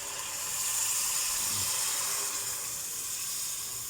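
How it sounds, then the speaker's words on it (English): Hot water poured into a pot of Filipino chicken sopas, a soft, steady hissing rush that swells slightly and then holds at a faint, even level. "Once okay, you can already put in water"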